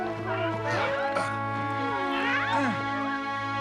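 Cartoon cats meow repeatedly in an animated David the Gnome episode, several wavering, rising and falling cries that overlap one another above a steady musical drone.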